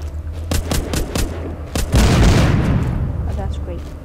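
Gunfire in The Walking Dead video game: a quick series of sharp shots, then a heavier booming blast with a rumbling tail, while a person talks throughout.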